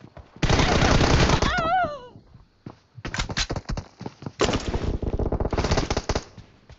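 Rapid automatic gunfire in the BGMI battle royale game, dense bursts of sharp shots in several volleys separated by brief pauses, with a whistling ricochet-like tone early on.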